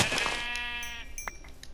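A sheep in Minecraft gives a single short, wavering bleat, close and moderately quiet, with a few faint clicks trailing after it.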